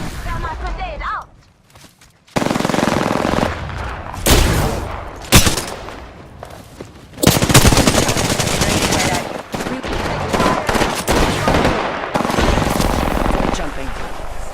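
Loud Apex Legends gunfire in repeated heavy bursts and sustained automatic volleys, with a brief lull near the start and dense shooting for most of the stretch.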